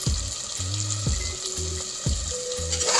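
Stuffed brinjal masala curry bubbling and simmering in a pan, a steady close sizzle with soft rhythmic pops and bursts roughly every half second, no voices.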